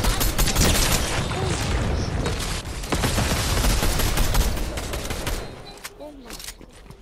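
Dense automatic gunfire and rapid shots rattle continuously through a shooting video game match, loud and close, with bursts fading toward the end and players' excited voices talking over it.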